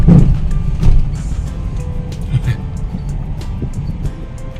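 Low, steady road rumble from underneath a moving Mazda 2 Skyactiv with accident-damaged suspension, with occasional knocks and thumps from the suspension over uneven pavement.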